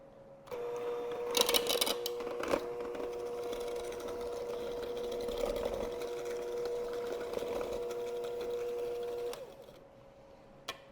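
Electric mixer beating dry oatmeal raisin cookie dough, a steady mechanical whir running for about nine seconds with a few knocks and rattles early on, then stopping; fairly quiet, with no speech.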